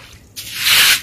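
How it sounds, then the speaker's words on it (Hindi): Water being swept out with a broom, a sudden wet hissing swish that rises and holds for the second half, loud and close with no talking over it. "झाड़ू के नाल बेचारी पानी निकाल दी पई है"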